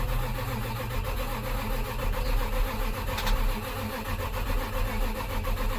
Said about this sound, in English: Oh, it cranks.